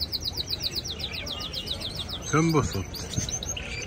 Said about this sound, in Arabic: طيور الكناري تحب الأجواء